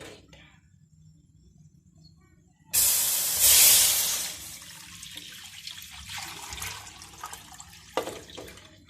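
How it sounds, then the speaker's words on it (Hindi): A kilo of milk is poured into a pot for custard: a sudden loud, splashing rush after a quiet start, easing into softer gurgling and trickling, with no talk. "इसके लिए सबसे पहले दूध डालेंगे 1 किलो।"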